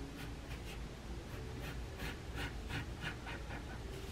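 Pencil drawing tree trunks on paper, soft repeated scratchy strokes in a quick steady rhythm, close and quiet, no talking.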